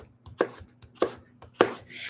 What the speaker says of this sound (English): I can just stick with slicing up the zucchini